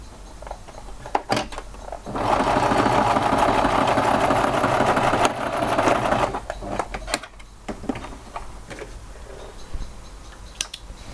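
A sewing machine stitches a flat zipper pouch, a steady close mechanical whir lasting a few seconds, framed by light handling clicks and fabric movement before and after.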